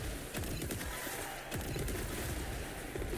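Rocket launcher fired in a mobile battle game, a loud blast with a burst at the start and another around halfway, set against dense gunfire-like game noise throughout.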